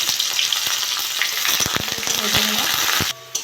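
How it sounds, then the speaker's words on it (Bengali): Five-spice seeds, bay leaves and dried red chillies fry in hot oil with a loud, continuous sizzle and a few sharp stirring clinks, then the sound drops off abruptly near the end. "পাঁচফোড়ন শুকনো লঙ্কাটা ভাজা"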